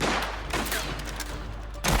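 Rapid gunfire from a shootout in the video game Mafia, a dense continuous burst of shots at close range lasting throughout, ending in a louder blast.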